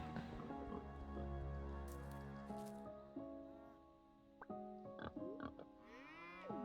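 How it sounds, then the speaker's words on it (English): A young pig oinks and snuffles in the farming game Echoes of the Plum Grove: a few short squishy grunts scattered over a steady, soft musical backdrop, with nobody talking. "The pig's still fairly young as well."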